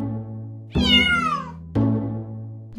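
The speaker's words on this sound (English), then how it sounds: "A loud sound often indicates an urgent demand" A cat meows loudly and close by, a long drawn-out cry followed by a second meow starting, over a steady low hum.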